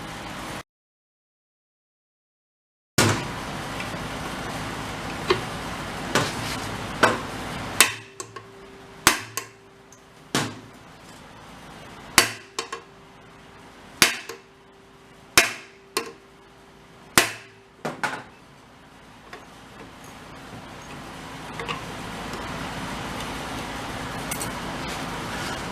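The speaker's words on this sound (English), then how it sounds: "Let's give that a whack with a pry bar behind it." Repeated metal-on-metal whacks from a pry bar striking a stuck part on a Maytag 92 hit-and-miss engine, about a dozen sharp clanks spaced irregularly over the second half, close and loud in a quiet workshop.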